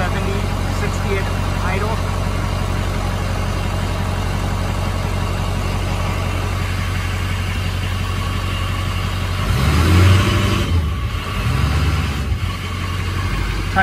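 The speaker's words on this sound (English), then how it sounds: "Trying to vary the throttle a little bit at first." A 6.0 Powerstroke diesel engine rumbles at a steady, loud idle, then the throttle is blipped a few times near the end, raising the engine note in short revs before it settles back.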